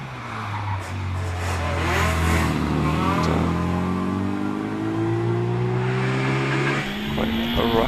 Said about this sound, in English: we see the Sebring MGB GT 884 of David Slade